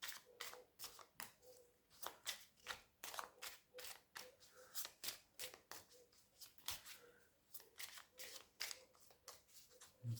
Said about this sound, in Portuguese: Baralhar os arcanos menores.